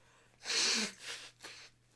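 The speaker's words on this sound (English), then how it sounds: "I need to blow my nose" A person blows their nose in one loud, close honking blast, followed by a shorter second puff, with no talking.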